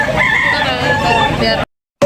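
Several roosters crow over one another at a crowded chicken market in Tabunok, with clucks and background voices, before the sound cuts out briefly and returns.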